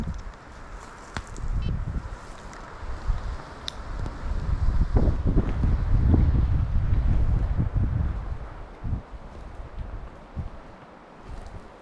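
Gusty wind buffets the microphone in a forest during grouse hunting, with low rumbling rushes that swell and fade, with a few faint knocks and rustles in between.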